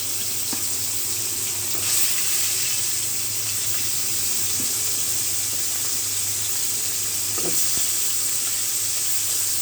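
Pieces of surma fish fry in hot oil with a dense, continuous sizzle, loud and close throughout, and a couple of faint clinks from the pan.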